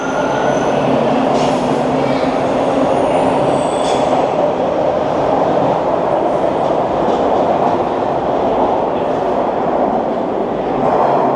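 A Toronto Line 1 subway train rides along with a loud steady rumble and roar, wheels squealing and faint clacking over the rails, no voices.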